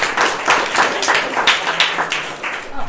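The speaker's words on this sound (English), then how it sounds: "Please welcome them with an applause." A small storytelling event audience claps to welcome the speakers, a dense burst of hand claps rising and falling in waves over about three seconds, close and lively.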